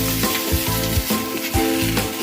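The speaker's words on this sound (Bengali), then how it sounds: "এবার এগুলোকে ভালো করে নেড়ে ভাজা ভাজা করে নেব" Teasel gourd, ridge gourd and pumpkin sizzle loudly in a frying pan, with rhythmic scraping strokes of stirring repeating roughly every half second.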